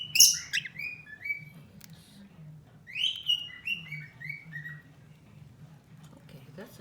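A pet cockatiel chirps in several bright bursts over a steady low murmur of background noise, the calls clustered early and again midway through.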